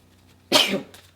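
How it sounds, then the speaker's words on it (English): A single short, sharp sneeze bursts out in a quiet room, lasting under half a second. "I'm about to sneeze."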